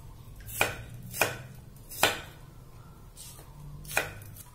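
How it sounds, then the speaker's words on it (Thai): Knife chops through an onion on a cutting board, five sharp strikes at an uneven pace with brief pauses between, close up and clear. "เราก็จะหั่นของพวกนี้ก่อนนะคะ"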